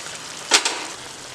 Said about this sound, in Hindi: हमारे चिकन को फ्राई करते हुए 10 मिनट हो चुके हैं।